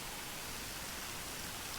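Heavy rain pours down near Jog Falls, a dense, loud, unbroken hiss of downpour filling the whole short stretch with no voices.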